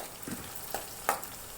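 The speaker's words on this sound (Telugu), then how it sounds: "ఉల్లిగడ్డలు మగ్గుతున్నాయి" Onions and spices frying in a pan, a quiet low sizzle broken by a few brief stirring clatters.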